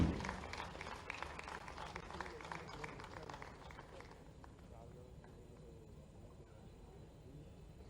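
An auditorium audience at an Ayurveda festival event in Bhopal applauds to welcome the chief minister, a dense patter of clapping that thins and fades after a few seconds while voices carry on faintly.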